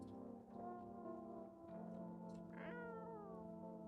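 A cat meows in No, I'm Not A Human, a single rising mew standing out over a steady droning tone and soft background hum.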